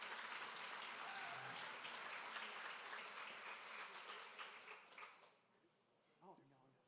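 Audience applause welcoming keynote speaker Dr. Cindy Blackstock of the Caring Society, a dense steady clapping from a large crowd that holds for about five seconds, then thins out and fades as a voice begins.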